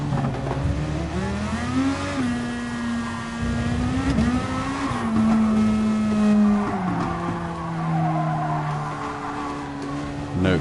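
Race cars crash during a race in GT Sport. Loud engines whine and shift pitch continuously, with tire squeal and skidding layered over the roar, and no talk.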